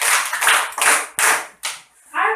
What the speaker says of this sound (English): A round of applause to Mrs. Maria Erlenda L.